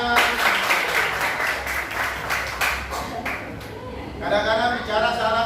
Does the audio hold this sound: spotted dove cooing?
no